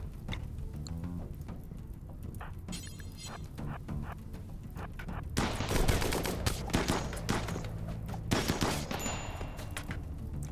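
Automated turret fire in RimWorld Odyssey, a dense burst of rapid shots swelling to a louder, chaotic barrage midway with sharp cracks and scattered impacts over a steady low rumble of battle.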